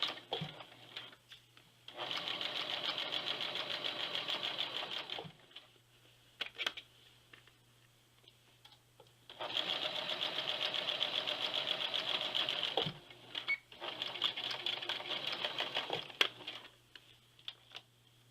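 A sewing machine stitching a new seam on a winter coat, running in three steady, whirring bursts of several seconds each, separated by quiet pauses with small clicks and handling noises.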